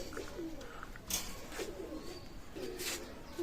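Pakistani high-flyer pigeons coo softly and repeatedly nearby, low murmuring calls over a faint background hiss with no talking.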